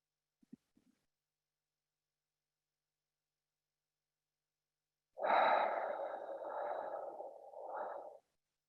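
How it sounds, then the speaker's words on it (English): A single slow three-part belly breath during a beginner heart chakra meditation, soft and close. It comes as a long airy breath that swells and fades over about three seconds, after a few faint taps and otherwise quiet. "We're doing the same with the 3-part belly breath, pushing the belly button out, allowing space for the air to fill the lungs."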